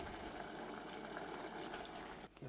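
Boiling water with bouillon powder pours steadily over rice in a pot, a continuous soft gushing that runs unbroken before cutting off at the end.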